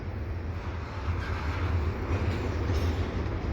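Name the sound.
CPKC eastbound intermodal freight train passing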